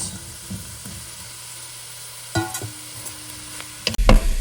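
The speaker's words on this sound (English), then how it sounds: "So I'm going to add our sausage to the pot." Sausage hits a soup pot of onions for a bayou swamp soup with a soft steady sizzle, a stirring scrape, then a louder burst of frying as more goes in near the end.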